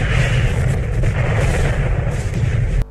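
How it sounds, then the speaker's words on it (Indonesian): Drone bomb explosions in a battle scene from the film The Mummy (2017) roar continuously as a loud, dense rumble of blasts and booming fire, cutting off abruptly at the end. "datang drone dan menggempur menggunakan bom di lokasi kejadian"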